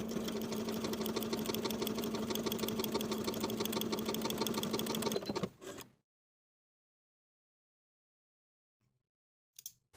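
Sewing machine stitching darts in knit fabric, a rapid even mechanical whir of needle strokes running loud for about five seconds before stopping, then near silence with a faint click at the end.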